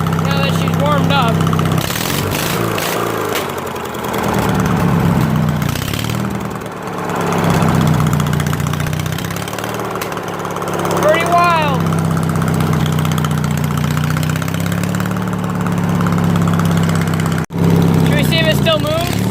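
Loud, steady drone of a warmed-up lawn mower engine running close by, with a low throbbing hum throughout and voices talking over it.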